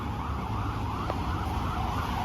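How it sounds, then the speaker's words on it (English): Emergency vehicle siren wailing through a city, a steady rising-and-falling tone held over constant traffic rumble and street noise for the whole stretch. "I think I hear something. That's the sirens."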